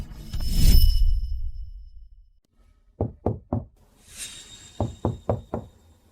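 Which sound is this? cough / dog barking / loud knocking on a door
loud knocking on a door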